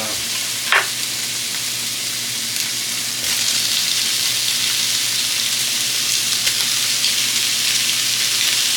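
Chopped ham browns in a frying pan with a loud, steady sizzle that holds throughout, with one brief scrape of stirring early on, close and continuous.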